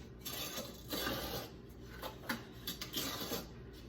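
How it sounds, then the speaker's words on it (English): Dry sugar and cocoa being stirred together in a bowl for a chocolate seven-layer cake, a soft gritty scraping and rubbing in quick repeated strokes, close and quiet with no talk. "I'm gonna dry stir the sugar and cocoa."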